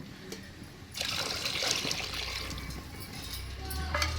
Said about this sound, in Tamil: 1 கப் அளவுக்கு தண்ணி சேர்த்துக்கிறேன்